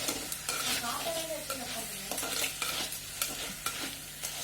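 Crab sautéing in a pan for a crab curry, a soft continuous sizzle with repeated scraping stirs across the pan, fairly quiet and close.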